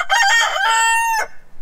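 A rooster in a backyard laying flock crows once, close and loud, a single cock-a-doodle-doo held for over a second before cutting off, with no talk.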